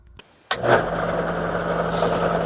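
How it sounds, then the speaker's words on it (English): Rotary tool with carbide cutters shaping a hood ornament spins up abruptly after a brief quiet moment, then holds a steady, close motor whir. "let me get out my carbide cutters"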